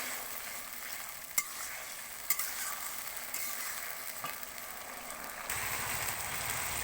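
Mutton is stir-fried with cumin paste in oil in a pot. A continuous oily sizzle runs throughout, broken by a few sharp scrapes and knocks of the spatula, and grows slightly louder toward the end, with no voices.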